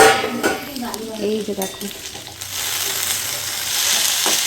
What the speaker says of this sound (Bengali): তো এখানে এখন আলু ভাজাই হচ্ছে, তোমাদেরকে দেখাই।